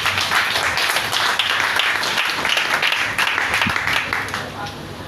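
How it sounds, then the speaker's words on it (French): A church congregation claps together to praise the Lord, a dense, loud, continuous patter of many hands with voices mixed in throughout. "Acclamons le Seigneur."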